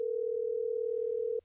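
A steady, unbroken telephone dial tone from a radio call-in line holds for over a second at even loudness, then cuts off abruptly.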